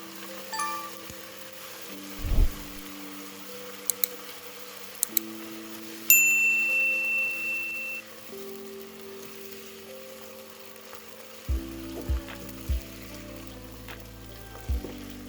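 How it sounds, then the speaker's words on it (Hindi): Ginger garlic paste fries with chana daal chicken, a faint sizzle and crackle under soft background music that changes notes, with brief louder stirring clatters here and there. "तो अब हम इसमें 1 tablespoon ginger garlic paste add करेंगे और अब इसको दोबारा से भूनेंगे अच्छे से"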